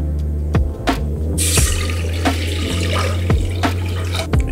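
One litre of water pours steadily into a pot for a miso soup broth, a loud close splashing rush that runs without pause, with a few clinks from the pot.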